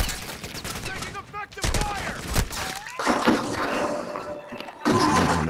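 Shotgun blasts ring out in Call of Duty: Modern Warfare II, several sharp heavy shots spaced irregularly among other gunfire and game effects, with voices speaking between them.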